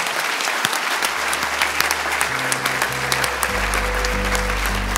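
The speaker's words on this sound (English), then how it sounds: "So let's give a round of applause to Jen Varney." Sustained round of applause from an awards night audience in a high school setting, steady dense clapping throughout with a low musical hum entering partway.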